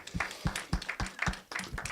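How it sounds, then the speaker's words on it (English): Applause from an audience at a gaming industry conference, a short, steady run of hand claps that is faint and a little distant, with no voices over it. "So I'd like to give a round of applause for supporting."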